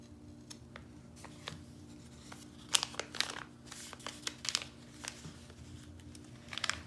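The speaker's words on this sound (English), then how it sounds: "and just cut around the pattern" Fabric scissors snipping through felt up close, irregular crisp cuts with soft rustling between them, fairly quiet overall.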